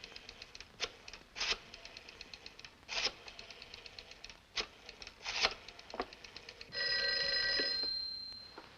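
A telephone bell in a 1949 film rings in short repeated bursts, then a longer sustained ring near the end, fairly quiet with no talk over it.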